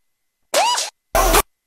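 Two short scream samples from an old-school house track burst out in quick succession, each about a third of a second long, loud and harsh, separated by silence.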